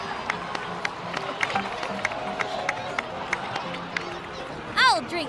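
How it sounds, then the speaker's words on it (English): Crowd applause and cheering in the video game Genshin Impact, a scattered patter of claps with murmuring voices and a background music bed, ending with a brief voiced exclamation. "please give another round of applause for them"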